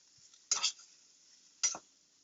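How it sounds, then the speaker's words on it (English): Two short scraping stirs of onions and greens sautéing in oil in a pan, each a brief clatter about a second apart over a faint steady sizzle. "Give it a good stir."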